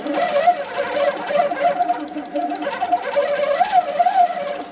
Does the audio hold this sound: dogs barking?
no